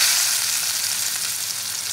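Chopped onion frying in hot oil in a pan, giving a steady, close, bright hiss of sizzling that continues evenly with no talking.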